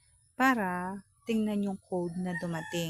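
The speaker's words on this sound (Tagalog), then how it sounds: "Pasensya na kayo sa ingay sa labas at yung mga manok ay nag-iingayan." A rooster outdoors crows loudly in three long, drawn-out calls while chickens make noise around it, and a person speaks close to the microphone.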